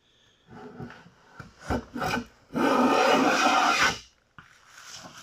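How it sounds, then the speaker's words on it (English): A jack plane shaves the high spot along the edge of a board while building a bathroom vanity. A few short scraping strokes lead into one long, loud, close rasping pass, with no talking. "2 quick passes with the jackplane, where I focus most of my attention on that edge."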